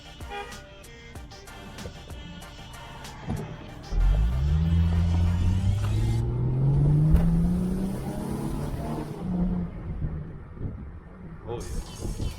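A Ford Mustang pulls away and runs up through the gears, the engine note climbing and dropping at each shift, heard from inside the car at moderate loudness with people talking over it.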